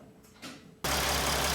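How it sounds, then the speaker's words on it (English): A Mercedes Sprinter van with a misfiring cylinder and rough-running engine fires up after a brief quiet moment, then settles into a loud, steady idle. "So now I'm gonna go in the vehicle and start the engine."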